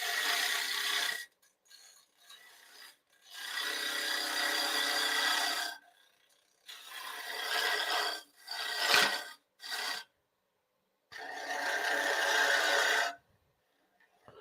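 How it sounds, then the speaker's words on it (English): A woodturning gouge cuts a three-corner wooden bowl spinning on a lathe, giving bursts of harsh, hissing scraping that start and stop in several passes of a few seconds each, close and fairly loud, with short silent gaps between. "Let the gouge cut."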